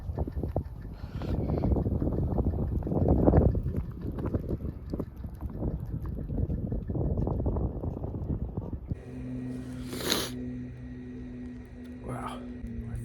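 Blizzard wind while walking outdoors, a steady, rough rumble of gusts buffeting the microphone. Someone talks over it throughout, and the roar eases in the last few seconds.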